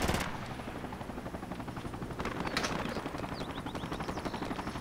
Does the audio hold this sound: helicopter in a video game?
yes